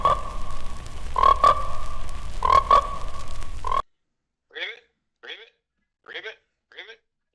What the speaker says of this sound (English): Ribbit.